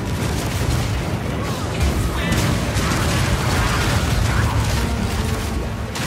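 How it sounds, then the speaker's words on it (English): Crossbow bolts firing and bursting in Path of Exile 2 combat, including armor-piercing, permafrost and incendiary bolts, heard as a dense, continuous stream of booms, pops and mechanical clatter layered over game music. "Armor-piercing bolts. Permafrost bolts. Incendiary bolts."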